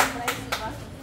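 Hands clapping in applause at a family gift opening, a few quick claps audible through an excited child's and adults' cheering voices.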